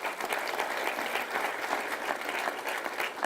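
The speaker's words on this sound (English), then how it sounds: "Give him a round of applause" A crowd at a school convocation applauds teachers honored as Teachers of the Year, a steady, dense wash of clapping that holds evenly for the whole stretch without a break.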